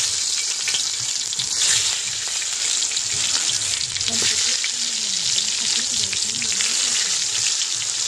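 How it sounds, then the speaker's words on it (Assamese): Eggplant frying in a pan of oil seasoned with salt and turmeric, a loud, continuous close sizzle with bubbling and occasional stirring, no speech. "এয়া এই তেলতে পিঠা পুৰা তেলতে এয়া বেঙেনা ফ্ৰাই কৰিম"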